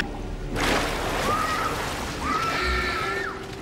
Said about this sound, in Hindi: टॉयलेट की सारी टंकियां खुल जाती है। हर जगह पानी भरने लगता है